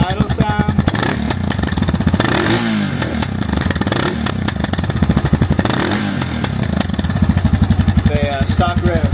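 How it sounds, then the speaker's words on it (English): A warmed-up Suzuki DR650 motorcycle with its stock exhaust idles close by, a loud, even, rapid thumping pulse that holds steady throughout with a slight mechanical clatter. "Stock idle sound."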